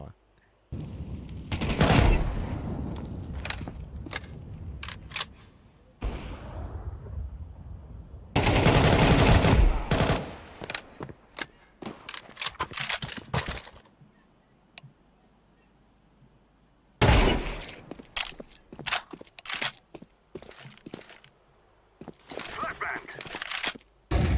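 Rapid pistol fire in a shooter video game, several loud bursts of quick shots separated by quieter stretches with faint movement sounds and occasional speech between.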